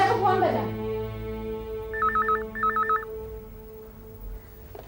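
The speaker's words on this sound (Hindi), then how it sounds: "देखो फोन बजा।" A telephone rings in two short warbling trills in a domestic drama scene, fairly clear over a low steady background hum, with a brief voice just before the rings.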